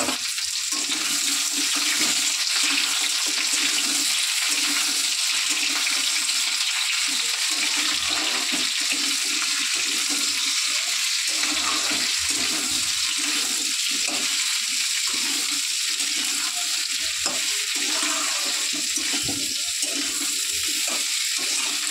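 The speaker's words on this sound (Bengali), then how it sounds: "এরপর আমি কেটে রাখা এই সবজিগুলো দিয়ে দেবো।" Chopped vegetables hit a hot cooking pan and set off a continuous loud sizzle that holds steady throughout, with faint scraping underneath.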